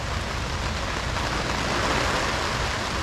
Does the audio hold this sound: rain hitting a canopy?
yes